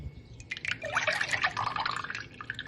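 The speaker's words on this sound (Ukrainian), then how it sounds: "В мисці з'єднуємо кефір. Він повинен бути обов'язково теплим." Warm kefir is poured into a bowl for frying dough, a close, continuous liquid gurgle and splash with bright dripping tones that go on throughout.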